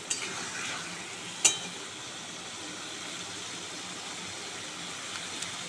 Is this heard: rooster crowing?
no